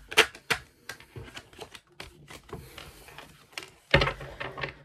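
Tarot cards are shuffled by hand in a series of quick, dry riffles and taps, close and fairly quiet, with uneven bursts and a louder flurry near the end and no talk.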